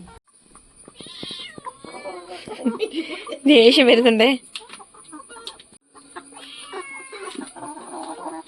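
A distressed kitten cries and mews among chickens, with one long loud wail in the middle and soft clucking between its cries, while a person speaks briefly.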